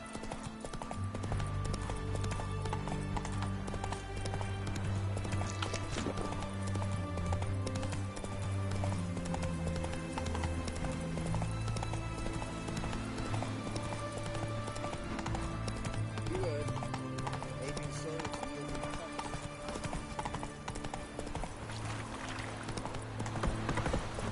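Roach the horse gallops in The Witcher 3 on PS5, steady hoof clip-clops running throughout over a dense game music and ambience bed, loud and continuous.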